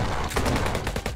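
Rapid, closely spaced shotgun blasts from the HyperParasite video game, about eight sharp bursts in quick succession, loud and close.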